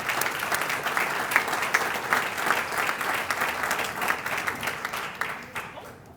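An audience at a city State of the City event applauds steadily for several seconds, loud and dense, the clapping tapering off toward the end.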